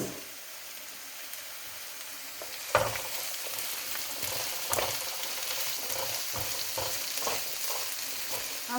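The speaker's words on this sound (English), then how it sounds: "Now goes in 1 chopped onion and we saute them for around 2 minutes." One chopped onion sautés in a pan, giving a continuous close sizzle with frequent crackling pops and a few sharper spatters, moderately loud and without talk.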